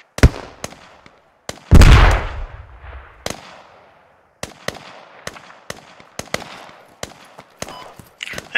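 Rapid gunfire from a .50 cal battle in the military shooter Squad: sharp, loud shots in scattered bursts and single cracks, one heavier blast early, with irregular gaps between volleys.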